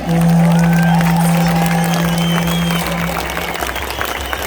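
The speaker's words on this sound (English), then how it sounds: "Big round of applause, ladies and gentlemen." A large outdoor rally crowd applauds and cheers, loud sustained clapping with whoops and shouts, a strong steady tone sounding near the start before fading, the roar easing slightly toward the end.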